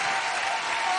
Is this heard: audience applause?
yes